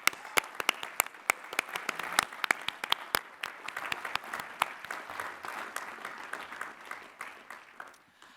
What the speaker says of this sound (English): Please recognize the Doctors of Philosophy with our hearty congratulations and applause.